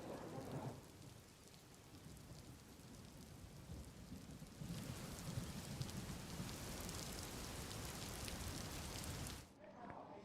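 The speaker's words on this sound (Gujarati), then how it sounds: "રાજ્યમાં ચારેકોર ધોધમાર વરસાદ વરસી રહ્યો છે" Heavy rain pours down steadily in a dense, hissing wash, surging louder partway through and easing briefly near the end, with no voices over it.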